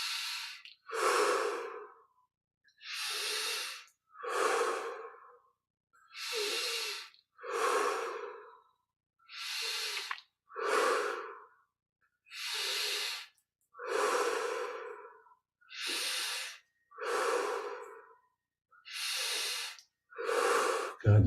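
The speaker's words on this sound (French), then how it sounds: "On prend 25 respirations profondes." Deep, slow breaths during guided meditation, about a dozen inhale-exhale cycles in steady rhythm, close and airy with short silences between each, no talk.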